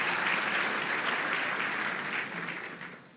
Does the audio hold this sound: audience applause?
yes